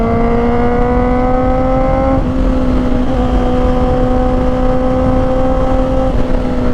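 Honda CB650R motorcycle, a 2024 E-Clutch model fitted with an upgraded cut-delete exhaust, heard riding at a steady loud engine drone with clear harmonic whine, shifting pitch slightly at brief gear changes, close and continuous with no talk.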